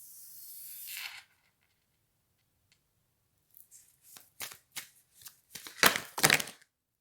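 Oracle cards get shuffled by hand in a quiet room: a brief riffle first, then a pause, then a run of quick rustling shuffles that grow louder, close to the mic and without talk.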